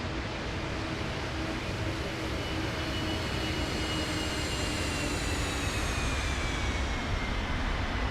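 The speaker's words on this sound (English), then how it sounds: "They've changed the engine sounds on this aircraft. It sounds a little better. Well, at least on the Pratt & Whitney engines." Steady, loud jet engine roar from an MD-11 airliner with Pratt & Whitney engines in Microsoft Flight Simulator 2024, a dense continuous drone with faint high whine tones, no voices.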